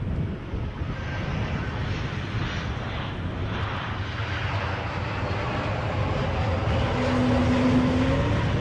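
An airplane landing at Edinburgh airport in gusty wind gives a broad, steady jet roar that builds slightly toward the end, with a faint whine rising near the close and no voices.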